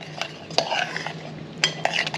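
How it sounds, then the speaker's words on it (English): A spoon stirs pecan candy mixture in a pot, giving a few quick scraping and clinking strokes over a faint low hum, close by and fairly quiet. "Now we're just going to stir this until it starts to thicken up"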